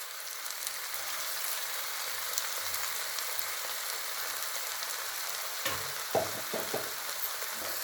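Ground tomato with ginger and garlic sautés in a pan for matar paneer, a continuous close sizzle with a few clattering stirs near the end and no talk.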